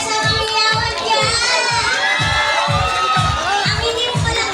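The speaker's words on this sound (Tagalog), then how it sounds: "Palakpakan po natin ang ating performer ngayong gabi." A crowd at a gay pageant fiesta show cheers and shouts for a performer, loud excited voices over rhythmic booming music beats, sustained and close.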